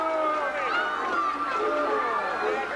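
Large stadium crowd cheering and roaring in a sustained standing ovation after a junior football Western championship win, with a continuous dense babble of voices and shouts, loud and steady throughout.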